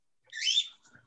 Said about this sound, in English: Somebody's got birds.